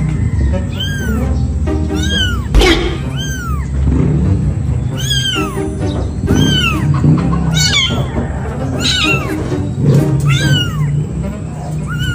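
A mother cat meows repeatedly in short, rising-falling calls near a kitten by a window, spaced about a second apart over a steady background, while a voice talks throughout.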